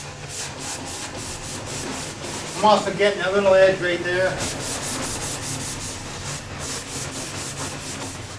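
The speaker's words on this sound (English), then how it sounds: "then I use my blocks to get the edges" Steady scratchy rubbing of a hand sanding block on cabinet drawer edges, continuous and close, with someone talking briefly over it partway through.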